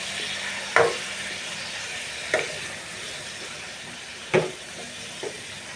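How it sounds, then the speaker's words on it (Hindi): Mutton and radish frying with ginger garlic paste in oil, a steady close sizzle with a few sharp clicks of a spoon scraping the pan, no voices. "अदरक लहसुन के पेस्ट के साथ भी फ्राई कर लेंगे, ताकि अच्छे से गोश्त जो है वो भुन जाए"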